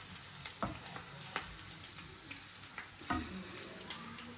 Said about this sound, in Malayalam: നല്ല ചെമ്മീൻ്റെ ഈ സൈഡ് നന്നായിട്ട് മുരിഞ്ഞിട്ടുണ്ടേ